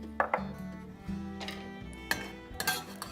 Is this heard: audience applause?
no